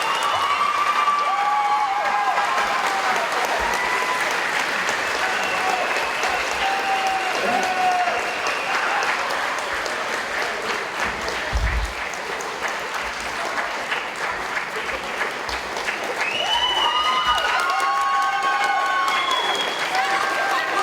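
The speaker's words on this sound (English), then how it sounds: "can we please have one last round of applause for all our performance today?" A school assembly audience for a Black History event applauds loudly and steadily, with cheers and children's shouts rising over the clapping and voices calling out throughout.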